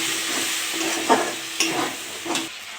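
Water hits a frying spice paste of turmeric, chilli and coriander powder, a loud close sizzle with three bursts of scraping stir strokes before the hiss eases.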